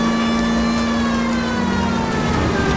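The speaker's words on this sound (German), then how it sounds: "Ich mach mal kurz die Sirene an, um alle zu wecken" Police car siren in the video game L.A. Noire wails steadily and loudly throughout, a continuous tonal sweep over vehicle engine rumble, with no talking.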